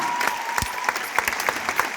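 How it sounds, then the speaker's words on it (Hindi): A crowd claps steadily in sustained applause, a dense patter of many hands at moderate distance. "एक बार जोरदार तालियां इन सबके लिए"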